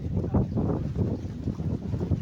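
Steady wind buffeting the microphone in a low, rumbling roar at sea, with a boat-like drone underneath.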